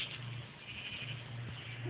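Sheep in the Minecraft video game bleating faintly in repeated short calls over a steady game background, with no talk.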